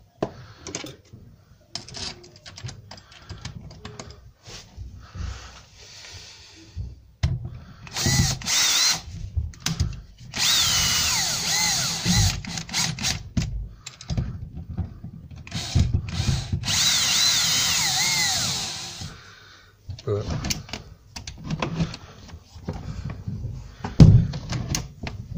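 A power drill driving steel screws into a PVC window handle, several whirring bursts of differing length separated by short pauses, clicks and handling knocks, close and fairly loud.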